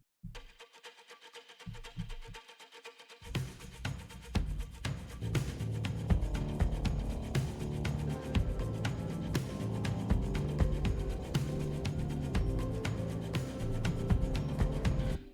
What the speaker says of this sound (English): and then I have this like muted ukulele strum